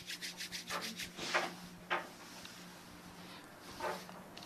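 Hair product rubbed between the palms, a series of soft, close swishing rubs that come in short bursts and then fade, with no voices over them.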